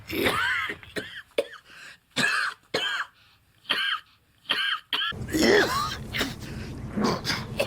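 A man coughs repeatedly in harsh, throaty bursts separated by short pauses, close and fairly loud, with low background noise in the second half.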